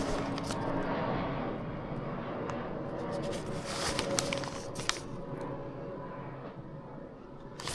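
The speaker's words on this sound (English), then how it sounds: "These planes are horrendous." Airplanes passing overhead as a broad, steady roar that swells and fades over several seconds, with scattered clicks and a voice talking in the outdoor setting.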